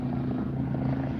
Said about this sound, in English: I'm going to point this up at the helicopter